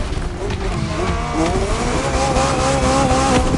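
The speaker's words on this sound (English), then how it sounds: "the most exclusive McLaren there is, the Elva" A McLaren Elva, an open-top Ultimate Series sports car, drives past with its engine note climbing steadily in pitch as it accelerates, loud and close, over a constant rumble of road and wind noise.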